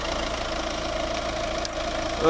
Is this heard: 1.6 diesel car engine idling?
yes